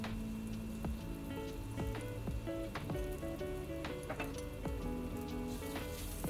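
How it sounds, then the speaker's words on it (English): Anchovies fry in spicy sambal while being stirred, a quiet, bubbling crackle with scattered pops and clicks running steadily, with no talk over it. "And keep on stirring to allow all the flavors to come together."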